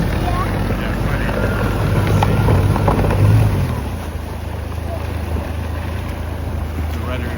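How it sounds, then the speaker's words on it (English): A speedboat runs across the water off Boracay at sunset, its loud steady engine drone and rushing wind roar filling the first half before easing to a lower, quieter hum. "So that's how the speedboat looks like."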